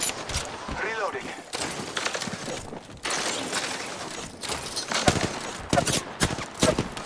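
Bursts of gunfire in the battle royale shooter Apex Legends, with rapid cracks and automatic volleys coming in irregular clusters, loud and sharp, with voices speaking between the shots.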